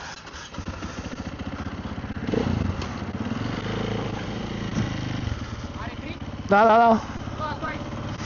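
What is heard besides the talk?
motorcycle engine running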